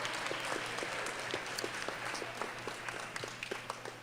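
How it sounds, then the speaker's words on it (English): Audience applause at a grade 4 academic bowl event, a continuous patter of many hands clapping at moderate loudness throughout, heard alone without talk. "we have to give them a round of applause"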